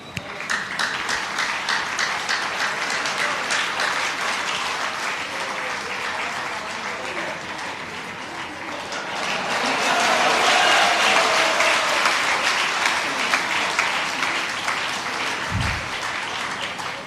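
An audience at a spoken Hindi sermon or discourse applauds steadily for the whole stretch, dense clapping that swells louder midway, with faint voices underneath.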